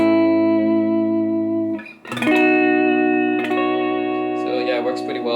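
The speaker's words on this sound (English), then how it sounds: "it works pretty well with these Gresh Filtertron type humbuckers." Electric guitar with Gretsch Filtertron-type humbuckers, a Gretsch Center Block Junior, played through a Milkman amp with reverb: ringing sustained chords, a brief choppy strum near the middle, then further chords, loud and close.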